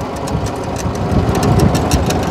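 A tractor engine chugs steadily on the way to the vegetable garden, a loud, close, rumbling drone with a rapid knocking pulse that holds level throughout with no talk.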